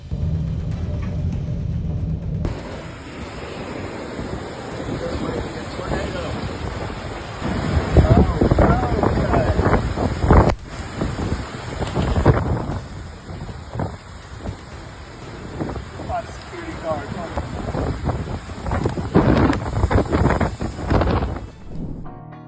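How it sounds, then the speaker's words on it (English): Heavy storm wind during Storm Goretti buffets the microphone while massive sea waves crash and roar around a French fishing boat in loud, continuous surges. "A French fishing boat bravely pushes through massive waves during Storm Goretti"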